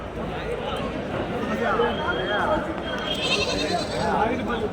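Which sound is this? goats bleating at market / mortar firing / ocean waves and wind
goats bleating at market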